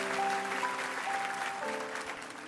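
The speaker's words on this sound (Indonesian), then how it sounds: "Beri tepuk tangan untuk Tuhan Yesus." A church congregation claps for a few seconds during a sermon, a steady, fairly faint wash of applause with a held musical tone beneath it.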